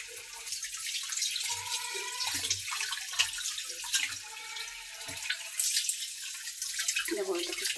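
Cut meat being washed under running water in a kitchen, a steady splash and trickle throughout, with a voice speaking over it.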